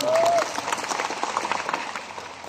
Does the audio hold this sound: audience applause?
yes